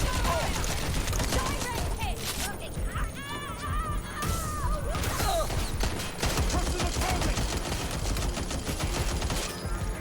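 Gunfire in the video game Watch Dogs Legion rattles in dense bursts of rapid shots that pause briefly and then resume loudly, with voices in between.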